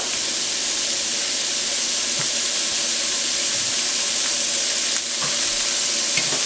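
Vegetables, including onions, garlic and celery, fry in a pan for shrimp fried rice, giving a steady, loud, close hiss of sizzling oil that runs the whole time with a few faint stirring knocks.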